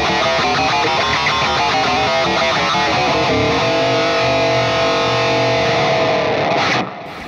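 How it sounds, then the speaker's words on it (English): Electric guitar run through a ring modulator effect for a screaming lead solo tone, a loud, dense, metallic and distorted wash of clashing tones that plays continuously for about seven seconds before cutting off abruptly. "the ring modulator sounds like this"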